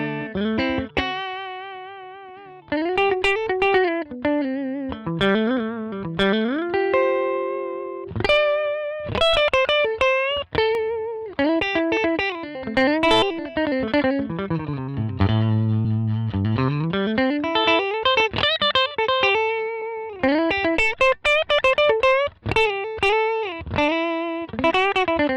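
Electric guitar run through a Line 6 Helix Retro Reel tape simulator plays a long stretch of saturated, chorus-tinged notes and chords with slides and bends, loud and close with no voices.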